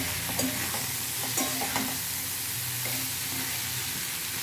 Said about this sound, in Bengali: তো দেখো বন্ধুরা আমি ভালোভাবে ফুলকপিগুলোকে মশলাটার সঙ্গে মিশিয়ে নিচ্ছি।